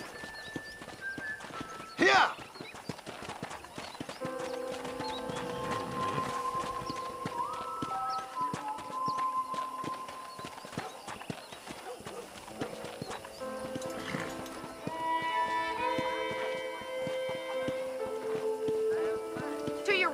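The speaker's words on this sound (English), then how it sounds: "let's see if you can still ride a horse." Horse hooves clip-clop steadily at a walking pace while riding in Red Dead Redemption, heard under spoken dialogue and soft background music, with one brief exclamation early on.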